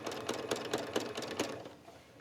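A sewing machine retraces stitches on a scrappy appliqué quilt, running in a steady, close, rapid stitching rhythm for a couple of seconds with no talking.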